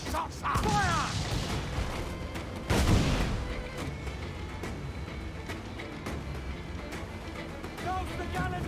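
Ship cannon fire in a naval video game battle: heavy booming blasts with a broad, rumbling roar over continuous sea and battle noise, one especially big boom near the middle, with shouted voices throughout.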